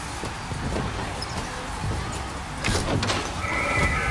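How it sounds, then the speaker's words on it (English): A mechanical horse in the video game BioShock Infinite neighs, a moderately loud whinny with faint clip-clop, heard alone with no talk. "Equus Mechanical, the automatic stallion, the horse of the future, today."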